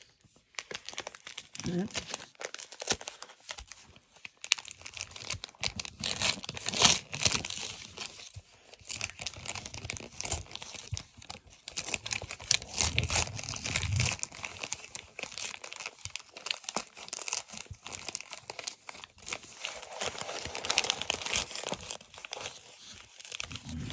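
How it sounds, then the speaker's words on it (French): Plastic packaging on a small packet of scrapbooking and sewing supplies crinkles and tears in repeated bursts as it is opened by hand, close and fairly quiet, with a French-speaking voice talking in between. "On ouvre le paquet de 4 scraps et couture."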